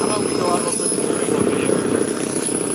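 A Hangar 9 Oscar radio-controlled model warbird's engine drones loudly and continuously at an outdoor warbird rally, a steady buzzing roar with wind noise.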